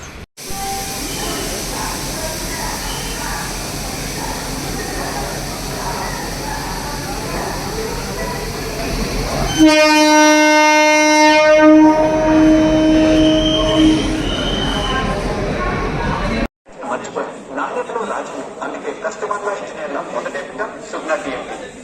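A Hyderabad–Lingampalli MMTS commuter train runs at a railway station platform, giving a loud rumble, then a sharp, sustained squeal of metal wheels that cuts off abruptly, with voices and platform noise around it.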